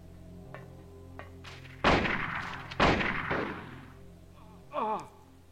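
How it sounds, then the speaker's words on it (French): Two loud, heavy shotgun blasts a second apart in the Silent Hill video game, each with a booming decay, followed by a brief creature-like cry. "On va utiliser le vrai fusil."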